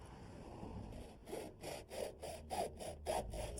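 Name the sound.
cutting aluminum gutter in box miter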